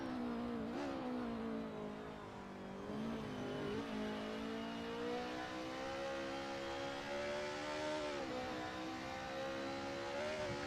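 DTM classic race cars in a racing video game, an engine holding a steady high revving whine that rises and falls slightly through gear changes, continuous and fairly faint with no talk.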